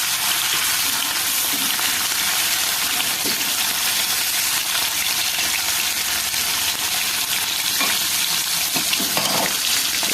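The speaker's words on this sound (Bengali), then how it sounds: "কালকে তেলাপি মাছ এনেছিল এখন ওটা ভাজবো" Tilapia fish frying in a pan gives a loud, dense, continuous sizzle and crackle throughout, close up, with a few faint utensil knocks and no talking.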